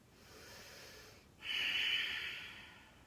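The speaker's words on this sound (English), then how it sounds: "Don't forget to breathe here." Deep breath during a standing warrior-style yoga pose, a steady airy exhale that swells loudly midway and fades slowly, heard alone with no talk.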